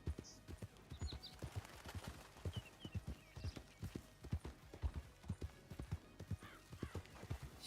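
Horse hooves clip-clopping in a steady walking rhythm while riding in Red Dead Redemption 2, evenly spaced thuds at moderate distance with faint ambient game sound behind.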